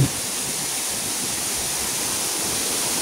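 Mahogany Falls, a small waterfall on a river in Trece Martires, Cavite, gives a constant broadband rush of falling water, steady and fairly close, with no voices over it.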